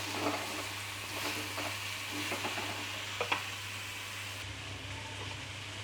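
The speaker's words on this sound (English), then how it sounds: "Now I am adding the squash and just mix it well." Squash pieces are stirred and mixed in a hot pan over a medium flame, giving a steady close sizzle, with scraping and a couple of sharp utensil knocks over a low hum. No one speaks.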